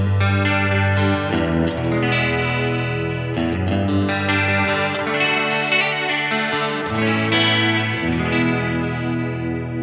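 Sustained electric guitar chords come through a wet amp chain loaded with delay, reverb and modulation, sounding lush, shimmering and chorused as the notes ring and overlap across several changes.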